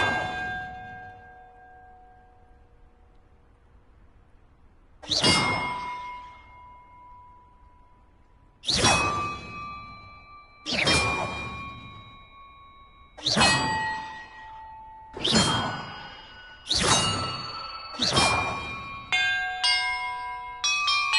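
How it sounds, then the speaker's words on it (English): Bells rung one at a time in the video game Slytherin Wizard 2, each a bright metallic clang with a long ringing decay, struck at uneven intervals that quicken toward the end, following a quiet stretch. "Perhaps the map contains clues about the order I'm supposed to ring the bells in."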